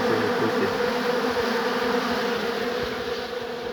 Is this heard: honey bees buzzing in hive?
yes